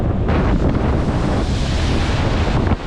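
Strong wind buffets the microphone in a loud, continuous roar at an East Coast beach before a storm, with brown, murky surf churning underneath.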